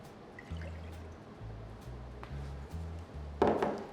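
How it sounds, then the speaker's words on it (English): Milk poured into a pot on the stove while making choux pastry for éclairs, a soft liquid trickle running close under a low rhythmic hum, ending with a brief brighter splash. "First thing we're going to do is we're going to add the milk,"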